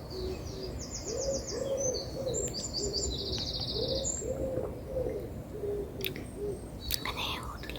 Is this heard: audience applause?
no